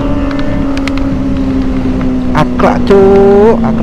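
Kawasaki ZX25R motorcycle fitted with a short Akrapovic exhaust idles with a steady drone, then blips its throttle into a couple of sharp rising revs, with rider talk and wind noise over the engine.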